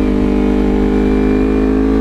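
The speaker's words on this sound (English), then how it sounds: "it kind of has that low grumble that you get with that cross-plane crank" A motorcycle with a new aftermarket exhaust and a cross-plane crank idles and revs close by in the cold, giving a steady, deep, loud low grumble with no talk over it.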